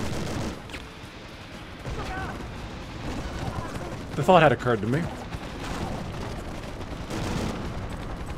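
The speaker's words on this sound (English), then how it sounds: "the gunfire is actually coming from behind me because it's coming from the helicopter" Gunfire from a helicopter in the N64 game The World Is Not Enough, rattling bursts coming from behind the player alongside game sounds, with someone talking over it.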